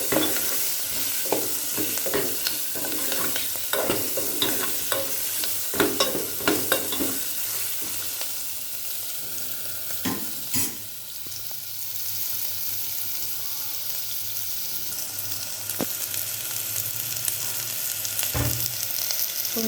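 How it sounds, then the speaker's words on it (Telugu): Bottle gourd pieces sizzle in hot oil in a pan for sambar while a spoon stirs them, giving a steady hiss broken by sharp scraping knocks, close and without speech. "సొరకాయ ముక్కలు, వేసి ఒకసారి కలుపుకోవాలి."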